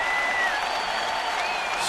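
A baseball stadium crowd cheers and applauds as fans rise to their feet in a major league game, a loud, broad roar of clapping with whistles rising above the din.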